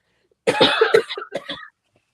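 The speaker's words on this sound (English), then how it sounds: "This cough is killing me." A burst of several harsh coughs in quick succession, close and loud, then silence.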